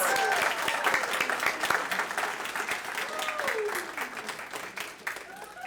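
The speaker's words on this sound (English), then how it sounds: "Let's have one more round of applause for our amazing graduates." Applause for graduates at the Foundations Academy graduation ceremony: a crowd claps steadily throughout, with some voices and cheers mixed in, the applause slowly thinning toward the end.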